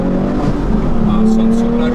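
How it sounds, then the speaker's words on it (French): The engine of a Porsche 911 R revs high and loud near coastal cliffs. A rising, sustained tone climbs steadily over two seconds while people talk over it. "Là, ça monte jusqu'à 9000 tours minute"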